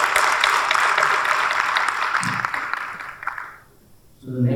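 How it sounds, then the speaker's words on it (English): Applause from an audience at a chartered accountants' chapter annual general meeting, a broad dense patter of clapping that holds steady, then fades out near the end before a brief sound returns. "let's give them a warm applause for the leadership"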